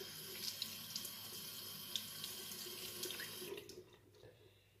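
Running tap water splashes close by as a razor is rinsed under it in a steady stream that thins out toward the end.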